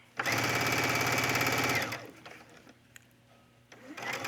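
Home sewing machine stitching a collar onto a gathered top, a loud steady rapid run of needle strokes for about two seconds, then stopping to quiet handling clicks before the motor starts up again at the end.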